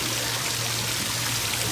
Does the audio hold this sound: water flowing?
yes